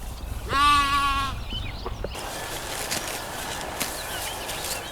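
A single sheep or lamb on a farm in the growing season gives a clear, close bleat near the start, followed by quieter outdoor ambience with faint rustling and distant sounds.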